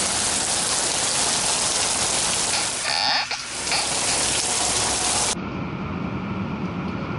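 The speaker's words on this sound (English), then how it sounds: "It's actually really rainy and muggy right now" Steady rain falls and patters in muggy Southern California weather, a dense continuous hiss close by that turns softer and duller near the end, with a few frog croaks mixed in.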